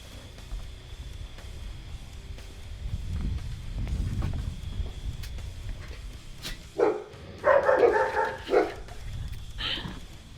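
Puppies barking and yipping nearby, a few short bursts of high barks clustered after a stretch of low background rumble, with whimpering in between.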